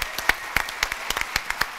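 An audience at the Devoxx France 2021 conference applauds, with distinct individual claps spaced irregularly rather than a dense roar, close and fairly loud.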